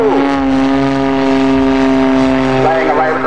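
A CAP 232 aerobatic propeller plane performing a gyroscopic manoeuvre at an air festival display, its engine a loud, steady droning tone with shifting pitch as it rotates, under a commentator's voice.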